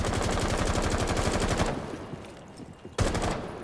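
Rapid automatic gunfire in the shooter game Rainbow Six Siege, a dense burst of loud repeated shots for over a second, a quieter lull with scattered sounds, then another sharp loud burst.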